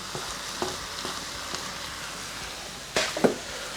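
Chicken frying with diced corn and crushed garlic as it is stirred in a pan, a steady close sizzle with light scraping strokes and a sharper clatter near the end.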